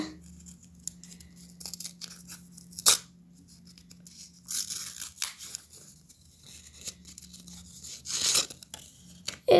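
A flowery gift package is unwrapped up close, with several bursts of paper tearing and crinkling separated by quieter stretches and no talking.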